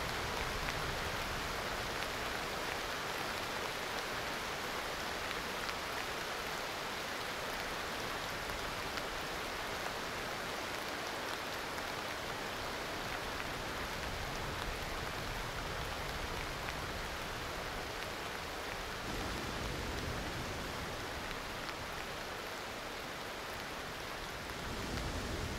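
Steady rain in the Aloft video game hisses continuously as a dense, even wash of noise for the whole stretch, with no voices over it.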